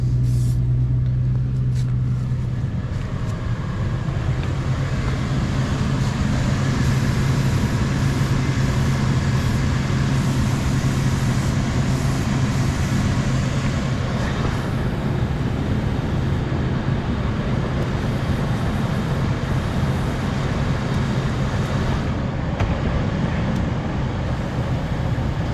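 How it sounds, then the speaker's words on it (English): A 1964 Chevrolet Impala drives across town after sitting unused, its steady engine rumble and road noise running loud and continuous without a break, a low hum underneath throughout. "Try to drive this thing across town to my storage."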